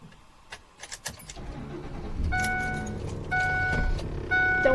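A truck starting up: keys jangle and clink first, then the engine cranks, catches and settles into a loud, steady idle that swells slightly near the end.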